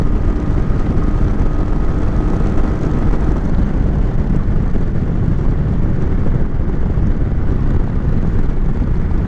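Royal Enfield Meteor 350 motorcycle accelerating in fourth gear, a steady loud engine drone with heavy wind rush over the microphone, continuous throughout with no talking.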